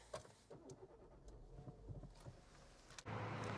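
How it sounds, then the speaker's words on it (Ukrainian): A 2005 Renault Megane 2 with the 1.6-litre K4M inline-four petrol engine: quiet clicks and small mechanical knocks, then the engine fires near the end and settles into a loud, steady running hum. "А тепер давайте запустимо двигун і подивимося,"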